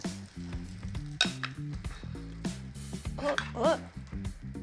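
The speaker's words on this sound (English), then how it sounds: "See that sizzle? That's how you know your pan was hot." Lamb sizzling steadily in a hot pan of foaming fat, a loud crackling hiss that continues throughout, with sustained tonal sounds underneath.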